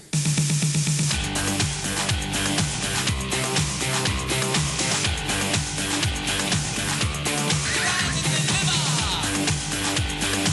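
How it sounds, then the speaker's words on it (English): Steady electronic dance music with a driving four-on-the-floor beat, thumping bass and layered synths, loud and continuous throughout. "This is the sound of house music."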